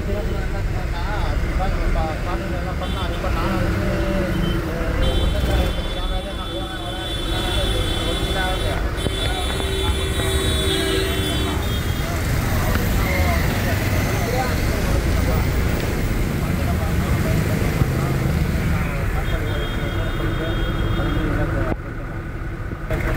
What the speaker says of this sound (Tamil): இவ்வளோ டிராஃபிக்காக இருந்தால் எப்படி சீக்கிரமாக போக முடியும்?